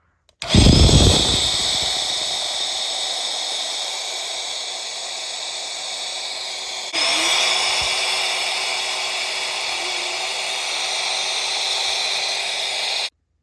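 An electric pump deflating an inflatable camping mattress starts with a sharp burst, then runs as a loud, steady whining hiss throughout, with a slight shift in tone about halfway.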